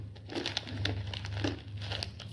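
Fried green peas (motor bhaja) crunch between the teeth in close, quiet bites, a few crisp crackly crunches spread over a couple of seconds with no talking.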